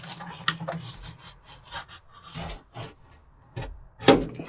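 FatMat sound deadening material is trimmed during installation on a Datsun 620 floor, giving a series of close, short rubbing and cutting scrapes with irregular pauses and one sharper crinkle near the end.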